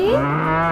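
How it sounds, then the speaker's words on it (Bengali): A cartoon cow gives a single drawn-out moo, loud and close, with a steady tonal low pitch and no talk over it. "গরু বাছুর"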